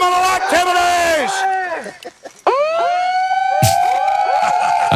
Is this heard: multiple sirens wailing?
yes